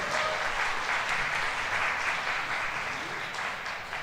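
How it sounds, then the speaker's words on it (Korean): Catholic Mass congregation applauding in welcome, a dense, even wash of clapping from many hands that holds steady for several seconds and tapers slightly toward the end, fairly distant and soft. "그럼 박수로 환영해 주시죠."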